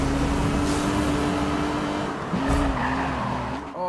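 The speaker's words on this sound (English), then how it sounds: "this is so easy to drift this car" Tires squeal as an Aston Martin Vanquish drifts in Need for Speed Rivals, a loud sustained screech over engine roar that breaks off and resumes, rising and falling in pitch.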